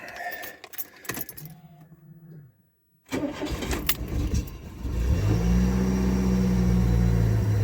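A 1985 Chrysler New Yorker engine cranks, falls quiet briefly, then catches and settles into a steady, loud idle close by, with a faint jingle of keys early on.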